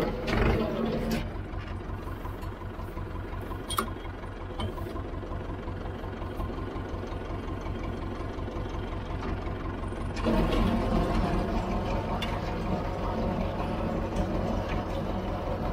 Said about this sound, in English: now the baler's just winding the bale with string, and when it's ready it will cut itself off